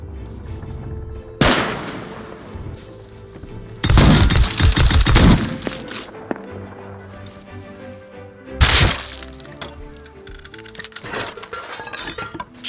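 Gunfire in the Rust video game, with bursts of loud shots and rapid automatic fire at several points, separated by quieter stretches.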